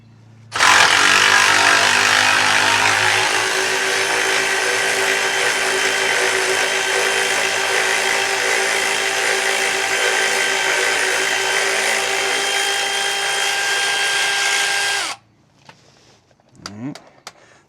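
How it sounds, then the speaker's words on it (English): A Milwaukee 1/2-inch drive power ratchet with a 14mm socket runs bolts out on a 2018 Ram 2500, a loud, steady whirring drone held for about fourteen seconds before it cuts off and leaves quiet shop noise. "I got the 1/2-inch drive Milwaukee ratchet, and I put it on a 14mm"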